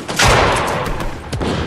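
A pistol is fired in Fortnite, several sharp shots in quick succession at close range, each with a brief ringing tail, and no talk over them.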